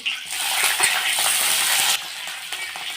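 Cumin, curry leaves and green chillies frying in a pan for bitter gourd fry, a steady bright sizzle with a few stirring scrapes, close and fairly loud, then dropping slightly near the end.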